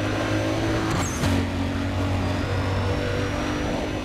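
Engine of a BMW 135i Coupe in the racing game Need for Speed World, a steady loud drone that holds for several seconds with a brief surge partway through, with no talking.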